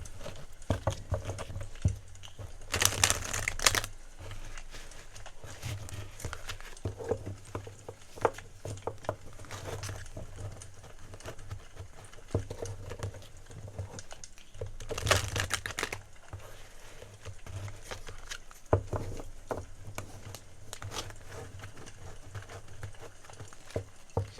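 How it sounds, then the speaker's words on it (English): Tarot cards being shuffled for an ASMR reading, soft close papery riffling and tapping in quick irregular patters, with a few louder bursts of riffle and otherwise quiet surroundings. "So I'm going to shuffle your cards first."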